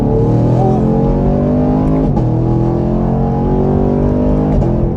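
A 2021 Camaro LT1 or Mustang GT V8 accelerates hard in first gear on a highway, a loud, steady rising engine roar heard from inside, with a brief shift-like dip partway through.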